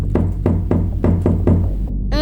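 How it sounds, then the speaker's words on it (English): Someone knocks on a door in a cat drama: six firm, evenly spaced raps, close and loud, followed by a brief pause. "Who is knocking at the door?"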